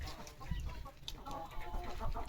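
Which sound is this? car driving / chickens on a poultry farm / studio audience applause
chickens on a poultry farm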